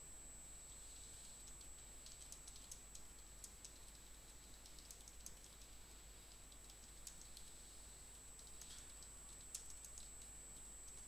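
Light, irregular clicks of typing on a computer keyboard while entering a patient's progress notes into clinical software, soft and steady throughout against a faint background hiss with a high electronic whine.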